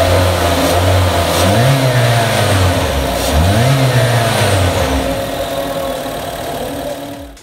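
A 2023 Honda Brio RS facelift with a 1.2 L engine runs and revs close by, a loud mid-pitched engine note rising and falling in two short revs before settling.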